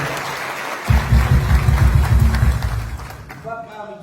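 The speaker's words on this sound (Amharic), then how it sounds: "አጨብጭቡለት ጌታ ክብር።" A church congregation breaks into loud applause that swells for about two seconds and then fades, with a voice rising over the tail end.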